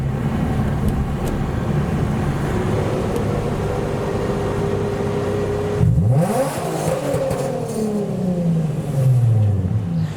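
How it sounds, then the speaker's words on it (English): An Audi RS6 Avant with a V10 engine driving through a Goodwood paddock: a low rumble builds into a loud close pass that drops in pitch, then fades into a softer engine drone. "there is a very bold and brave Audi RS6 driving by"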